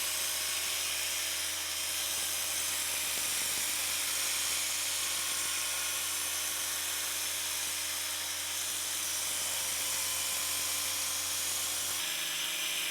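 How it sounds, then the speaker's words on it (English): Hardwood arrow shaft sanded down with 80 grit sandpaper held around it while the shaft spins, making a continuous loud whirring, buzzing drone close by with a slight shift near the end. "I've got some 80 grit sandpaper that I'm just going to hold around it and take this thing right down to the shaft diameter"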